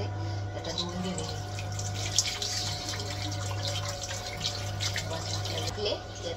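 Tap water runs steadily into a sink while something is washed under it, a close, constant splashing stream with a faint voice speaking beneath.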